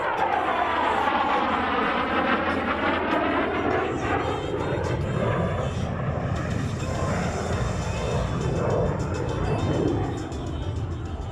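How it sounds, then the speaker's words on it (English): An F-16 fighter jet making a knife-edge pass at an air show roars loud and continuous overhead for the whole stretch, its pitch sweeping as it passes, with a faint announcer voice beneath. "And from your right, the F-16 and the knife edge pass."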